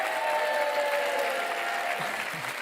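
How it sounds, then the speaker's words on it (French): A studio audience on a French quiz show applauds a postman contestant for a correct answer, a brief, even patter of many hands at moderate volume. "Je voudrais qu'on applaudisse le postier"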